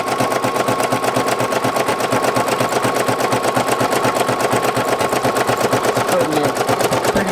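A Brother SE1900 embroidery machine stitches a patch with black thread, giving a loud, fast, steady mechanical rattle that repeats evenly close by the whole time.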